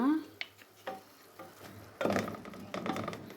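Shrimps cook in a pan for palabok, giving a quiet sizzle that swells in short bursts as they are stirred, with light clinks of a utensil against the pan.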